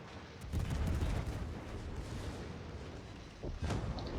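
Naval gunfire from World of Warships, with HE shells fired by a heavy cruiser: a low, distant-sounding rumble of booming salvos that swells early, eases off, then returns with a fresh blast near the end.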